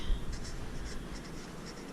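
A pen scratches across paper while someone works out a budget, giving a close, quiet stretch of short strokes and scribbles with no talk.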